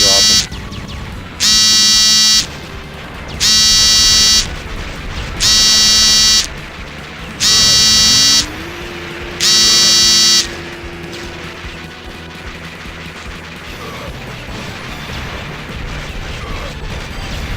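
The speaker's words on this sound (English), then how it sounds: "Oh, the bombs keep dropping." Bombs drop and explode in the arcade shooter Metal Slug, five loud, evenly spaced bursts about two seconds apart over a steady game soundtrack, followed by continuing background game noise.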